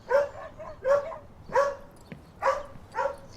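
Several dogs barking in a rhythmic series of sharp, close barks, five or so bursts with brief whimpering between them, no talking.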